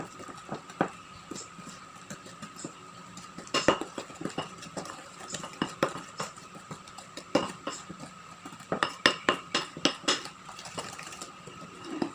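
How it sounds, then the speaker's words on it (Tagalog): A spoon stirs chocolate and milk in a bowl, producing repeated quick clinks and scraping taps against the side, uneven in rhythm with busier bursts, close and moderately quiet. "lalagyan na natin ito ng isang teaspoon na milk. At atin siyang haluin."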